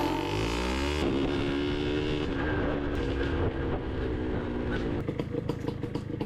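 A motorcycle pulls away and rides on, its engine close and loud, rising in pitch at the start and then settling into a steady running drone with road noise toward the end.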